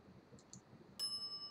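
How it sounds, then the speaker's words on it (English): A service bell dings once in a video game: a bright, clear chime that rings out and sustains over quiet background, loud and close. "Ring bell for service."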